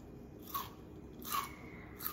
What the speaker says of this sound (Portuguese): Só de ouvir, né? Ela, ó, dá pra saber que ela ficou bem crocante.